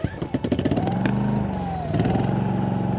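A portable generator engine is pulled over with the choke on and catches, sputtering briefly before settling into a steady running drone up close, with someone talking over it.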